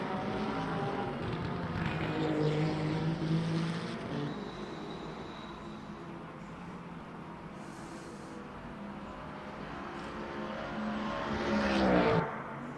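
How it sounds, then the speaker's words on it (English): A V8 Mustang and a flat-six Porsche 911 race car in a racing game at Imola, engines droning and shifting pitch as the cars run close together, swelling louder near the end. "The All-American V8. Running away from the flat V6."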